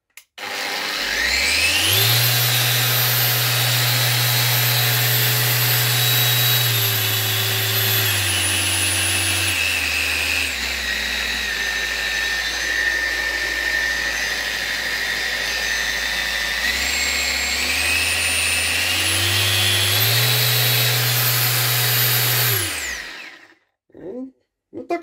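A Bosch GET 75-150 eccentric sander spins up, runs at a loud steady whine with shifting speed settings for about twenty seconds, then winds down and stops.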